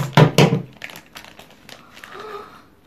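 Crinkly plastic rustling and tearing as a Claire's Perfect Pets cat blind bag is cut open with scissors, two loud close crunches up front followed by softer crinkling and handling.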